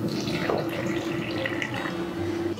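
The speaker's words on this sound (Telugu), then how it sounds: "నువ్వు ఉండమ్మా, మేము నీళ్ళు పోస్తాం." Water poured by hand at home during homemade desi cow ghee preparation, a steady splashing, gurgling stream running continuously and close without a break.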